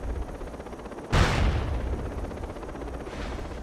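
One loud gunshot bursts out in the Socom 2 online shooter, with a rough, decaying tail and a fainter second report near the end, and no voices.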